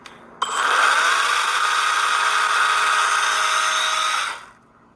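Close by, an electric pole saw starts with a click and runs at a steady high-pitched whine for about four seconds before spinning down.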